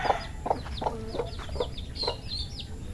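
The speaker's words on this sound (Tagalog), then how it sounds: "lapit silang kumain sa mga manok natin, yung mga bibe, yung mga sisyo natin oh" Chickens cluck in short, repeated bursts on a farm where ducks are also kept, with higher chirps from chicks layered over; close and moderately loud.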